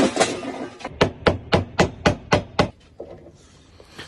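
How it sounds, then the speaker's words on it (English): A series of sharp hammer blows on a wooden cutting board, about nine evenly spaced knocks, close and loud, followed by a quiet pause. "so I had to use a hammer."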